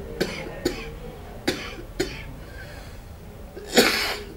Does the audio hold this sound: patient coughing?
yes